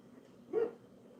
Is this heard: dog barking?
yes